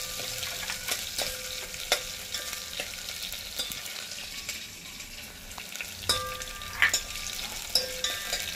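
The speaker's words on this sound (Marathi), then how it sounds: "आता परतून घेऊया लाल होईपर्यंत" Crushed garlic and ginger fry in a pan, a continuous close sizzle broken by clacks of a spoon stirring and scraping, with no one talking.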